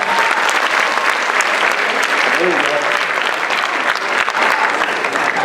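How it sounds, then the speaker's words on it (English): An audience at a student leadership lecture breaks into steady, dense applause, a continuous wash of many hands clapping at constant loudness, with some voices mixed into the crowd noise. "Give him a round of applause"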